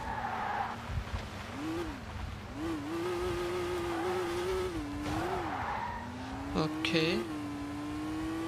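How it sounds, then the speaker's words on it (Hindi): A rally car drifts along a road with long, wavering tire squeals over a constant engine drone, and someone speaks briefly near the end. "ड्रिफ्ट बड़ी आला लगनी थी भाई।"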